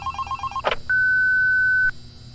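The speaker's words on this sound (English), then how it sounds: "we get a phone call every night" A telephone in the Five Nights at Candy's video game signals the nightly call: a short pulsing ring, a click, then one loud sustained electronic tone lasting about a second before cutting off.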